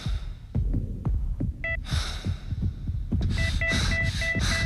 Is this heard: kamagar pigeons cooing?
no